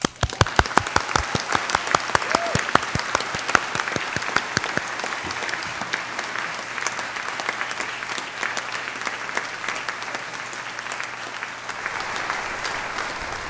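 Enthusiastic applause from a convocation audience, dense and sustained, with sharp individual claps standing out at first before settling into an even roar of clapping.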